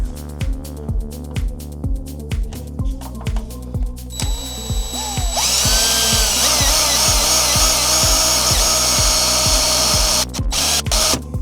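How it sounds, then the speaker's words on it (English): A power drill bores a hole with a drill bit while modding a Tecsonic J1 Super Jumbo speaker, a steady rhythmic motor whir that rises into a louder, sustained high grinding as the bit bites through, close and alone. "we'll take this drill bit and see if that does enough of a trick for me"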